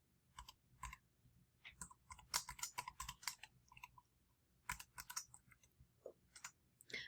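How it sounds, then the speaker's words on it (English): Bursts of computer keyboard typing, fairly close and quiet, with irregular clusters of keystrokes separated by short pauses, no voices. "we want to type in everything that we sketched out"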